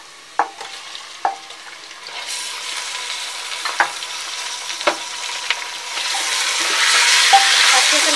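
Mutton goes into a pot of softened frying onions, quiet sizzling with a few sharp clacks of a spoon, then a louder, fuller hiss building toward the end, close by with no talk.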